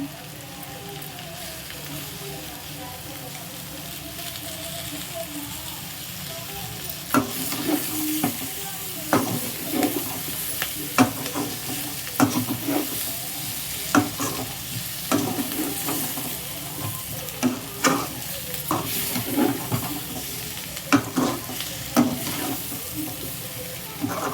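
Drumstick fry being stirred in a pan, with a steady sizzle under repeated scraping and stirring strokes that grow louder and more frequent partway through.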